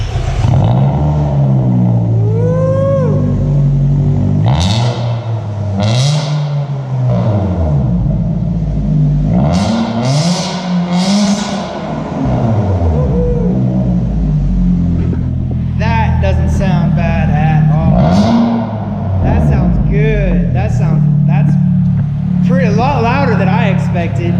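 A 2007 Nissan Sentra SE-R with a newly installed exhaust starting up for the first time, then loud raspy revving in repeated rising and falling pulls, close and dominant, with occasional voices underneath.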